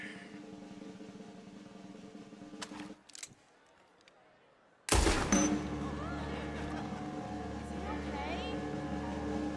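A gunshot in Red Dead Redemption 2 during a vaudeville stage act, a single sudden loud crack midway that gives way to a sustained, noisy, echoing din; a voice is heard briefly before the shot.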